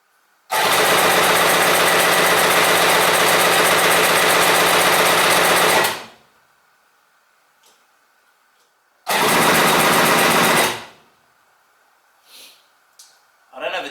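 A rebuilt Yamaha GP760 Waverunner two-stroke engine turns over loudly and buzzes for about five seconds, cuts out, then a second shorter burst follows, with quiet gaps and small clanks between.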